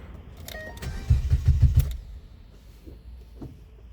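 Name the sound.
2011 Ford Fiesta engine revving as gas is pumped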